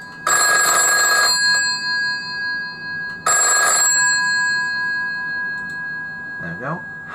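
A black telephone rings in two long, loud bursts with a pause between, followed by a short clatter, as if the receiver is being lifted.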